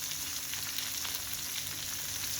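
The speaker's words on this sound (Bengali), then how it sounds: "মাছ এক পিঠ ভাজা হয়ে গেছে আমি এখন উল্টিয়ে নেব" Puti fish frying in hot oil, a dense, even sizzle with crackling spatter that holds steady and fairly close throughout, with no voices.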